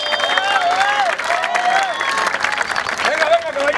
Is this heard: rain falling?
no